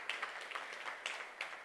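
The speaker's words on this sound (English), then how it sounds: "Let's give him a round of applause for that." An audience at a colloquium claps steadily, a dense, fairly soft patter of many hands heard from a distance.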